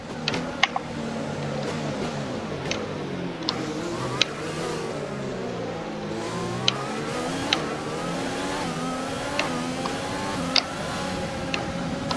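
A Formula 1 race car engine in the F1 2020 video game drones steadily with rising and falling pitch as it revs, accompanied by sharp, irregular ticking clicks.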